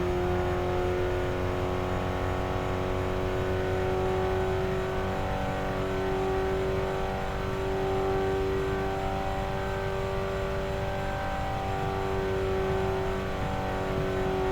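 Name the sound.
race car engine revving in RevHead video game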